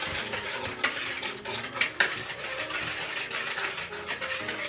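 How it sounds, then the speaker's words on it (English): Whisk working through dry ingredients for gluten-free apple cinnamon muffins in a bowl, a soft continuous scraping and rubbing with a few sharper clinks against the side, close and fairly quiet. "you're gonna take a whisk and you're gonna combine all of this"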